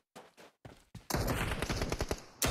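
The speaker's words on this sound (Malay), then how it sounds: "Tembakan daripada Tony K." Gunfire in a PUBG Mobile esports match: a few short, sharp single shots, then a dense, loud automatic burst of rapid rounds that cuts off abruptly, with one final crack at the end.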